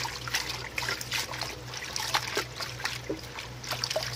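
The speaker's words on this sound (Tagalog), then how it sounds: "hugasan natin tong kangkong" Running water and splashing as kangkong (water spinach) leaves are rinsed, a continuous trickle with irregular splatters, close and moderately quiet.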